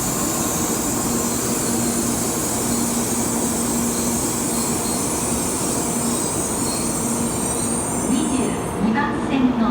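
A Tokaido Shinkansen Nozomi train in a busy station during heavy-rain delays, giving a continuous close rumble with squealing wheels and a rising whine near the end, under background station noise.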